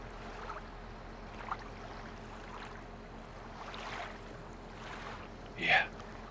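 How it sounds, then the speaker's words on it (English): Water in Farming Simulator 22: a soft, continuous wash of lapping and gurgling water with gentle surges over a low engine hum, ending in a brief louder splash. "there are some nice sound effects on the water"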